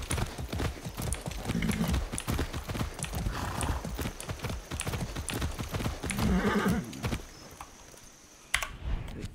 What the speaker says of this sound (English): So I'll do horseback today. Let's ride.